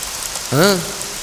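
Rain falls in a steady, hissing patter throughout, and a brief vocal sound rises over it midway.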